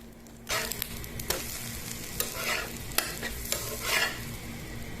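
Egg frying in a pan of olive oil, a close, continuous crackling sizzle that starts abruptly half a second in and keeps popping with sharp spits and occasional stronger bursts, with no voices.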